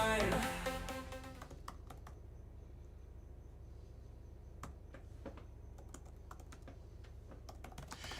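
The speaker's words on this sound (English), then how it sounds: "I am typing a note to a deranged person in the chat room" Rapid clicking of keys on a computer keyboard, irregular bursts of close taps after a brief louder opening sound, steady and alone.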